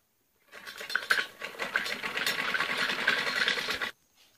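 Sewing machine stitching a stretched elastic waistband onto trousers, a steady rapid whir running for about three and a half seconds, close and fairly loud, with no talk.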